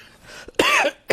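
A presenter in a Hindi financial news studio coughs twice in quick succession, sharp and close, with a throat-clearing quality.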